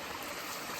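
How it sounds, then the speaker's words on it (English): A small mountain stream on the Appalachian Trail flows in a brief, steady wash of running water, close and continuous with no voices. "Sometimes the trail takes you to these little rivers, streams that you gotta cross."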